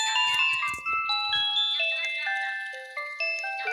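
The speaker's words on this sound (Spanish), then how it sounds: "Pide, toca el timbre." A house doorbell on Halloween plays a melodic electronic chime, with a series of clear ringing tones stepping downward in pitch and fading out, with no voices over it.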